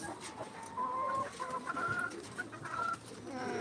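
Three hens and three roosters cluck and murmur close by in a coop, with short repeated calls and soft cooing rising over a quiet background.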